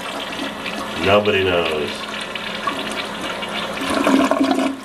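A 5-gallon flush toilet with an old handle, a loud near rush of draining water followed by refilling, with a person talking over it.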